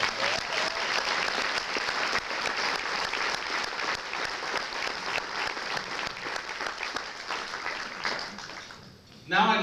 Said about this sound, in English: Let's have another round of applause for Skip Taylor.